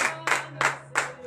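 A church congregation at a morning prayer service claps in unison, four loud, evenly spaced bursts of applause close by with a steady low hum beneath.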